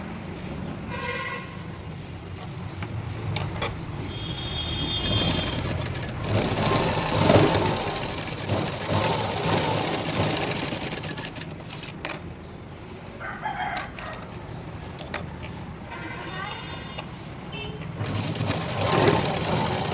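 A sewing machine stitches a blouse in short mechanical bursts of rapid clatter separated by pauses, with a rooster crowing now and then in the background.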